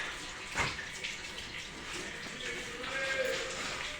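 Water splashes and pours steadily as children bathe during an Ahoi Ashtami festival day, a close, continuous wash of noise with a brief louder splash early on.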